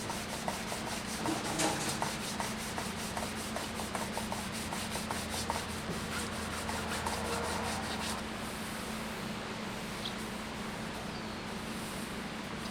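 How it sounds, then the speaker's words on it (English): Close rhythmic scratching of sandpaper rubbed by hand across a wooden stave drum shell, with quick regular strokes for about eight seconds before the rubbing stops and a quieter, duller hiss remains. "And I'm going to be sanding all the shells the same way."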